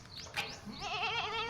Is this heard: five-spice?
no